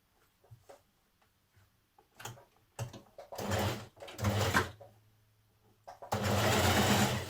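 A sewing machine stitches down the neck facing on a 1940s vintage-style blouse, running in short bursts that grow into longer, steady whirring runs with pauses between, close and fairly loud.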